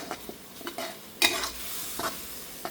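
Pad Thai noodles are stir-fried in a tablespoon of oil, with scraping stirs and short bursts of sizzle at close range and a louder clatter of tossing midway, no talking.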